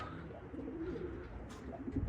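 A wild pigeon coos in a natural spot also visited by crows and ravens, its low soft calls repeating near and steady over a faint outdoor background.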